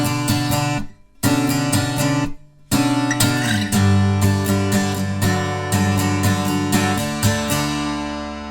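An acoustic guitar strums a stabby pattern for a song, with rapid down-up chord strokes broken by short muted gaps, loud and close with no voices.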